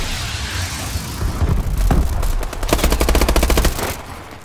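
Rapid automatic gunfire from Call of Duty: Advanced Warfare, loud and close, with a heavy burst and then a fast, even run of shots firing alone.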